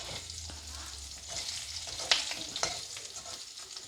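Potato pieces frying in hot oil with salt in a pan, a steady crackling sizzle with a few sharp utensil clicks and scrapes.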